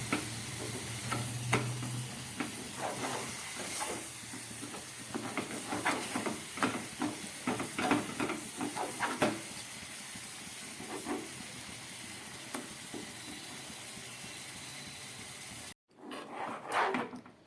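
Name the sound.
melting jaggery and sugar in a pan on low gas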